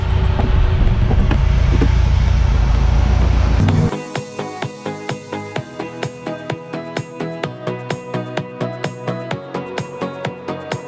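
A Lamborghini engine runs loud and close for a few seconds before the rumble cuts off abruptly, leaving a steady, rhythmic ticking chime that repeats evenly.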